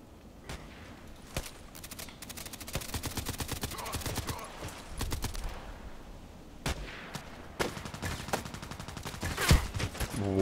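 Rifle shots from an SV-98 sniper rifle in a video game ring out repeatedly at irregular intervals, sharp loud cracks over a busy background of distant gunfire.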